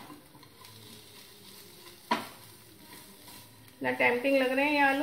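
Spiced achaari potatoes sizzle and get stirred in a pan, with a soft steady fry, one sharp clank of the spoon, and then someone talking over the cooking.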